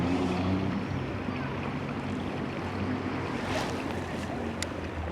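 A small motor assists a pedal-driven kayak or trimaran out at sea, running steadily and close under continuous wind and water wash, with no talk.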